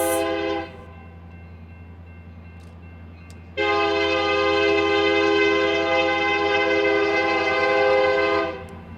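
Union Pacific Big Boy 4014 steam locomotive in a parking lot on the way to Cheyenne, sounding a long steady horn blast of about five seconds after a brief earlier toot, loud over a low rumbling background.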